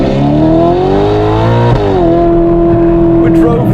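A Novitec-tuned Ferrari Portofino M with 688 hp revs hard up close, its loud exhaust climbing in pitch, dipping on a shift, then holding a steady howl.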